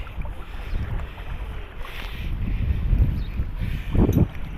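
A bicycle is pushed through deep flood water on a street in Sharjah, UAE, with continuous sloshing and churning water close to the microphone, heavy wind buffeting, and surges of splashing as it wades deeper.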